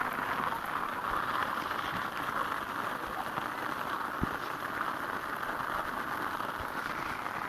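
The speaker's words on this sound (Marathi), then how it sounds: "आता लय पाऊस आला डोंगरामध्ये" Heavy rain pours steadily in the hills over a fenugreek field during harvest, a constant even hiss of drops with no break.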